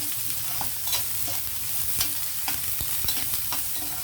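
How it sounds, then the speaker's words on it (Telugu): Raw banana and capsicum stir-frying in a pan, a steady close sizzle with scraping stir strokes and soft clinks of the spatula throughout, no talk. "కొంచెం వేగితే చాలండి."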